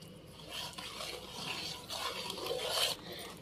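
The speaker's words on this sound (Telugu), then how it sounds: "అంతా ఒకసారి ఈ నూనెలో కలుపుకుంటున్నాము" Chili powder and garlic being stirred into oil for a cauliflower pickle, a soft continuous scraping and swishing in a pan, steady and close with faint clinks, no voices.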